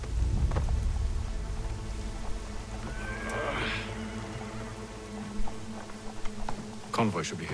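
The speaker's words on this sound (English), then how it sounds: "Uh-oh, it's raining." Rain and rolling thunder fill a scene in the video game Assassin's Creed 3, a steady wash of rain under a rumbling low boom, with a voice talking over it and a horse faintly audible.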